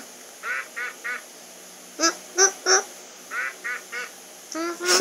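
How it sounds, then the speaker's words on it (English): A duck quacks in quick bursts, several loud nasal calls in clusters of two and three, close by with no talking. "Duck. Duck."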